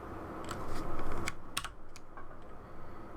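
Rapid clicking taps on a computer keyboard while a shortcut is entered in ArchiCAD, close and fairly quiet, with steady key presses and a few sharper clacks.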